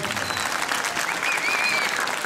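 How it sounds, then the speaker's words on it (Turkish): Crowd applause at a neighborhood iftar gathering, a dense and steady clapping from many people heard already underway and holding level throughout, with faint murmurs and a thin whistle-like tone over it. "bir alkış istiyorum sizden"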